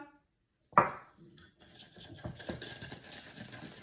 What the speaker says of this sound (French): On va commencer par le beurre fondu avec le sucre et on va fouetter l'ensemble